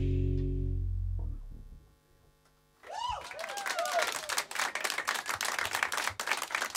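After a sustained musical tone fades and a brief hush, an audience bursts into lively clapping for the performer, with whoops and cheers rising over the steady rhythm of many hands.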